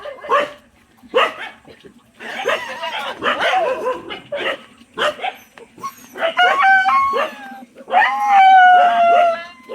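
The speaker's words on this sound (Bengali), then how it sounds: "কুকুরগুলো চিৎকার করেই যাচ্ছে।" Several dogs bark loudly and repeatedly at night near a fallen motorcycle at a village Charak fair, in irregular bursts, some barks stretching into howling whines, with a rooster crowing in the background.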